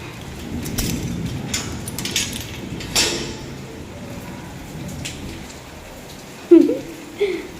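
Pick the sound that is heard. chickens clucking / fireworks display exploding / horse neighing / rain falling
rain falling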